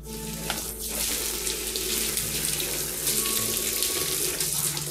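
Running water rinses a part from a Clio 1.8 under restoration, a steady close splashing gush like a flowing tap that continues throughout without speech.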